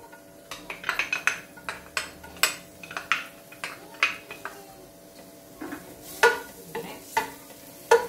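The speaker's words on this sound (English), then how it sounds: "now we're gonna put the garlic" Garlic sizzles in a pan for chicken soup under a quiet, steady frying hiss, while a utensil scrapes and clinks against the pan in irregular sharp strokes, with no talking.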